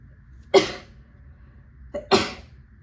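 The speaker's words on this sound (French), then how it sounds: "J'ai encore envie d'éternuer." Two sharp, explosive sneezes about one and a half seconds apart, loud and close, with near silence around them.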